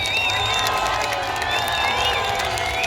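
A festival audience at a stage performance cheers and applauds, a steady dense roar of clapping, whistles and shouting voices held at an even level throughout.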